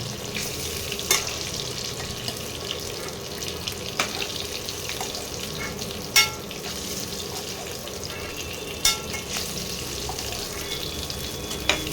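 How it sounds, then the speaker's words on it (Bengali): Eggs frying in oil in a pan sizzle in a continuous close hiss, with a few sharp scrapes and clicks as they are lifted out with a utensil, and no voice over it. "ডিমগুলো ভাজা ভাজা হয়ে গেছে, এবার আমি তুলে নেব।"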